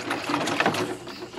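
A .357 Magnum 158 gr Gold Dot bullet rolls around inside a plastic water jug in a garage, making a close, continuous scraping rattle that lasts through the whole short moment.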